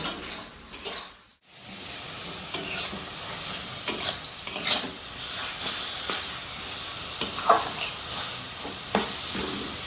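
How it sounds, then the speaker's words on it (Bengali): Whole, uncut leafy greens frying in a pan in a Bengali kitchen are stirred with a utensil, giving a continuous hiss and sizzle broken by scraping and clinking strokes at an uneven pace, heard close up. "এবার ভালো করে মিশিয়ে নেবো"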